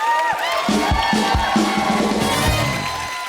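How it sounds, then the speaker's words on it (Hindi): A studio audience at a Punjabi comedy show with cricketers as guests cheers and whoops loudly, a dense roar of voices with shouts rising above it, steady throughout and close. "तो पज्जी पाजी के लिए जोरदार तालियां हो जाएं"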